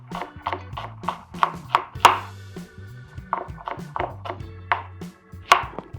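An onion sliced into rounds with a knife on a cutting board, crisp close chops in an uneven rhythm, roughly a dozen in a few seconds, with low music underneath.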